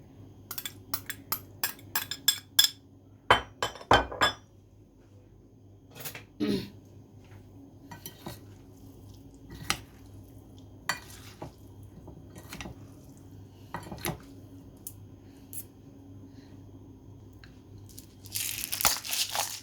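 Potatoes tossed with olive oil in a bowl, close irregular wet squelches, crunchy clinks and scrapes against the bowl in bursts with quiet gaps, a denser stir of sloshing at the end.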